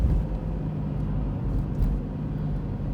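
A car drives slowly along a road, its engine giving a steady, low rumbling hum that stays close and even throughout, with no one talking.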